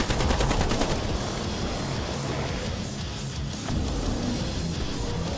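Rapid assault rifle bursts from the Killing Floor Incursion VR game, dense continuous automatic fire loud and close throughout with no talking.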